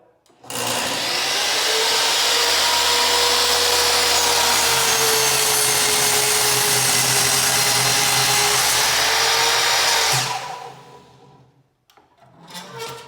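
A miter saw cutting wood runs as one long, loud, steady whine for about ten seconds, close up, then cuts off and spins down, followed by a few faint knocks.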